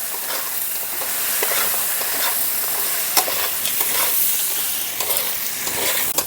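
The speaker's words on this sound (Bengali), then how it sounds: "মাছের মাথার সঙ্গে মশলাটাকে ভালো করে কষিয়ে নিয়েছি" Spices and turmeric frying and being stirred with a katla fish head in a pan, a steady broadband sizzle with repeated scraping stir strokes throughout, close and fairly loud, no talking.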